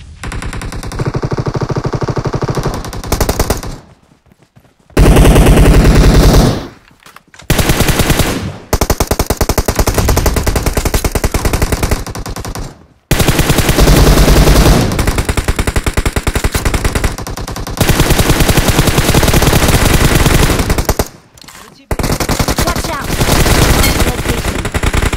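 Gunfire in the video game PUBG Mobile during a squad fight on Sanhok, loud bursts of automatic fire broken by short silent gaps, with players talking over the shooting.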